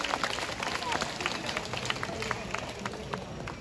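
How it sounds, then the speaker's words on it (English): An audience at a night safari animal show applauds an owl's flight, a steady spread of clapping under crowd murmur, moderately loud and continuous. "Let's give a round of applause to Bulan for such a wonderful flight."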